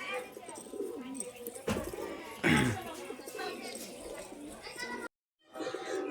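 Pigeons coo softly in a loft in low, rolling murmurs, near and continuous, while someone talks over them and a brief thump and a short dropout break the sound.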